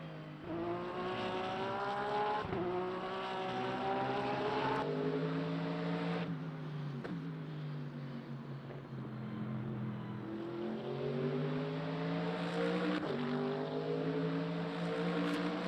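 A Porsche race car engine in Le Mans Ultimate holds a loud, smooth drone that climbs in pitch through the gears, with quick drops at each upshift, then eases back and rises again. It sounds sustained and close, with no talking.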